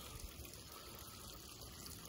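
Water gushes steadily from an opened pipe at a house, a continuous, even rushing flow that is fairly faint, with no voices over it.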